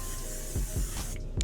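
A makeup setting spray mists onto a face in a few quick, close spritzes, each a short airy hiss following the last in an uneven rhythm.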